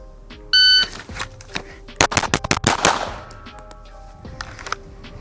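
A Laugo Arms Alien pistol fired on a range at 20 yards: a shot timer beep, then a rapid string of loud, sharp close-range shots, with a few scattered clicks afterward.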